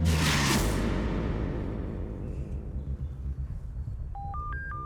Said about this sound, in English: Frank Carson gets a phone call from the hospital.